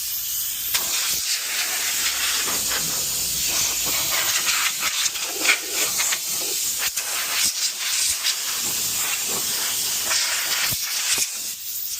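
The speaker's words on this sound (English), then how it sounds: "Just going to do a little spray off here." Bursts of pressurized spray hiss loudly up close, blowing dust off car parts for a Lexus IS300, starting and stopping in short irregular blasts over about twelve seconds.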